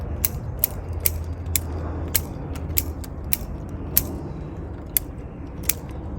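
A pruning tool trims back long shoots on a field maple, a series of crisp snips and clicks at an irregular, fairly quick pace, with a faint low hum in the background.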